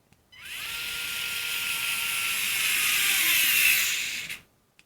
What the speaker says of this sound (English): I'm just going to squeeze this socket by hand and stall out the screwdriver.